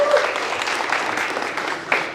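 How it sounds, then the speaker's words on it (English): An audience applauds winners at a pitch competition in a theatre hall, with steady dense clapping throughout and a brief swell near the end. "Big applause to all winners"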